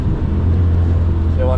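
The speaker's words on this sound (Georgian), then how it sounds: "ისევ GT3 მეწევა" A GT3 race car closing in from behind on the Nürburgring, its engine a steady low drone with rising revs near the end, heard from inside another car amid loud road rumble.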